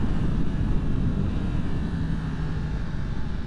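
A 2023 Yamaha MT-10 motorcycle engine pulls at light throttle in third gear, a steady low, droning roar with wind rush, constant and fairly loud.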